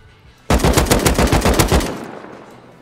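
Rapid automatic rifle fire in the survival game Rust, a loud burst of about a dozen evenly spaced shots lasting roughly a second and a half, then a short fading tail, with no talk.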